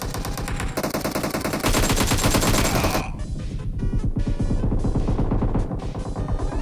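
Automatic gunfire crackles in PUBG Mobile, sounding as loud, rapid bursts of machine-gun fire with overlapping shots. A dense fusillade gives way to sharper, spaced volleys in the second half.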